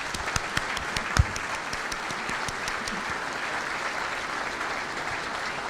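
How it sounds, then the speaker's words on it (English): Audience round of applause at a monthly club program meeting, a steady wash of many hands clapping at moderate level that holds evenly throughout with a few sharper claps near the start. "Let's have a great round of applause."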